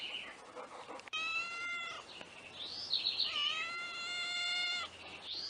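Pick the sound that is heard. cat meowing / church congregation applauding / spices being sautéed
cat meowing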